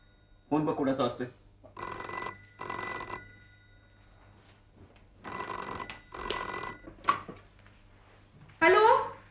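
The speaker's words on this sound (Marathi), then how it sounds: "फोन बघ कुणाचा असतोय." An old-style telephone bell rings in a home setting during a Marathi drama, sounding in several short bursts with voices talking in between.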